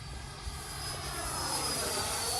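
Freewing Eurofighter Typhoon RC jet with a 90mm electric ducted fan on 6S power, flying over a runway, a steady whining fan rush at middle distance that swells slightly.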